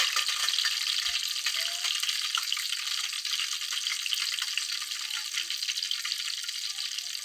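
Ash from dung cakes, wrung out in water, hisses and crackles as it is dropped into hot ghee, a dense continuous sizzle filling the stretch.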